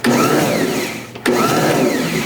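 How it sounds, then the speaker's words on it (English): Electric hand mixer with cookie beaters spinning in softened butter: a loud whining motor hum with rising pitch, a brief dip and pause midway, then running again steadily. "do a couple rotations with the cookie beaters just so that I know that the butter is softened enough"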